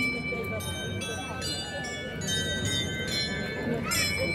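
Bright, repeated strikes from a small carried carillon in the Tournai grand procession ring out over a busy street crowd, with voices and chatter throughout.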